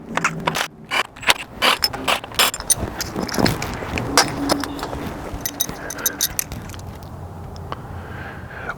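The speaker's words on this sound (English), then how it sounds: "first step, remove the rocker arms." Rocker arms being removed from an engine's cylinder heads in a garage: metallic ratcheting, clicking and clinking of tools and parts in irregular bursts, close and fairly loud, easing toward a quieter end.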